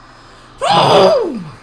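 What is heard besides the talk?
sneeze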